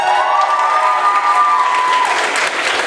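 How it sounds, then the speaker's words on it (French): Audience applause at a cosplay award ceremony, dense steady clapping with some cheering, loud and sustained, with a sustained tone running beneath it. "Encore un petit coup d'applaudissement peut-être?"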